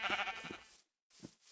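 Two short sheep bleats from the Minecraft video game, close and clear, the first a wavering cry and the second a brief call after a moment of silence.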